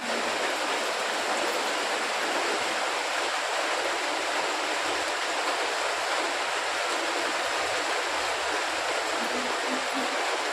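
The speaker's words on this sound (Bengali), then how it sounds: "চলে এসছে বৃষ্টি" Steady rain pouring down outdoors, a dense, even hiss that continues unbroken at moderate loudness with no voices.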